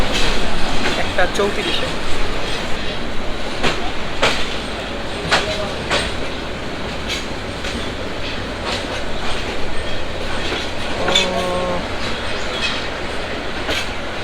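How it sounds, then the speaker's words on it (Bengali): Mohanganj Express passenger train pulling out and rolling along the rails near Dhaka, a loud steady rumble with rhythmic wheel clacks and a brief squeal, voices talking over it. "অবশেষে 1:34-এ আমাদের এই মোহনগঞ্জ এক্সপ্রেস কিন্তু ছেড়ে দিল"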